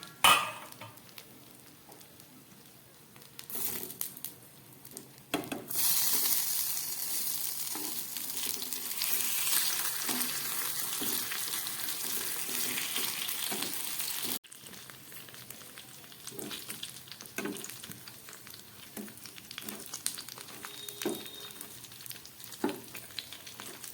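Eggplant pieces frying in oil in a pan, with a lid set on partway; a steady loud sizzle fills the middle stretch, then quieter crackling with occasional clinks once the cover is lifted.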